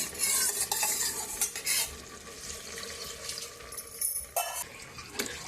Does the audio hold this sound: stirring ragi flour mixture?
yes